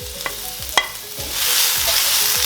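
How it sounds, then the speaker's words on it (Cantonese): Ginger frying in a hot wok for Hong Kong-style beef chow fun, a spatula tossing and scraping with sharp clanks early on, then a loud, close, rising sizzle that holds steady. "輕輕炒啲薑先"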